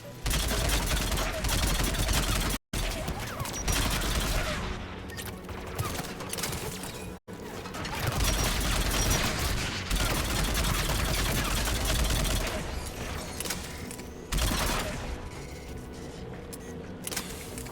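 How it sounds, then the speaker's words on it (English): Sustained anti-aircraft gunfire rattles through a Mass Effect 3 battle, loud and continuous bursts with brief gaps, dense and rumbling throughout. "AA guns ahead of us."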